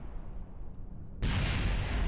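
A rocket's landing leg bursts apart in Kerbal Space Program with a sudden loud blast that cuts in after a quiet rumble and then holds as sustained roaring crackle, no voices.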